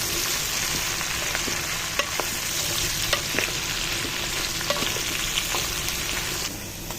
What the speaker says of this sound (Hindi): सबसे पहले हम भिंडी और हरी मिर्च को फ्राई कर लेते हैं